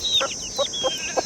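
A hen held in someone's hand gives four short separate clucks with small gaps between them, loud and close, with no talk.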